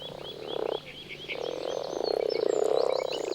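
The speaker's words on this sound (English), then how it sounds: "The grass frog's mating concert lasts only a few days." Grass frogs croak in a dense mating chorus at a protected pond in Germany's Black Forest, with many overlapping rhythmic croaks swelling louder toward the end, some nearer and some farther off.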